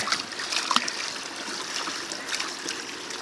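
Water rushing from a garden pipe after pressure has built up, the flow still dirty, a steady broadband rush that holds fairly even and close, with a few small splashy bumps and no talk.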